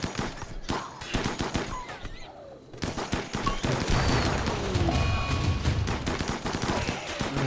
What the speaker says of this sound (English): Okay, well, there's a lot of gunfire happening.